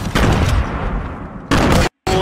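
A grenade blows up in a video game: loud, harsh blasts of noise with a sharp cutoff, a brief silent gap, then another burst. Game gunfire-like chaos fills the rest.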